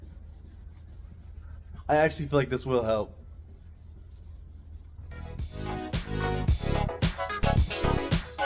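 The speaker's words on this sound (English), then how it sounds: "And now we're sanding." Wet sanding of a Porsche 911 headlight. A voice talks briefly, then a steady, close, rhythmic scrubbing rasp of abrasive paper on wet plastic runs in repeated strokes.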